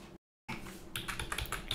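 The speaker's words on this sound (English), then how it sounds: "So here I'll again type activate ability" Quick typing on a computer keyboard, close and soft, a brief pause then a flurry of light clicky keystrokes in irregular rhythm.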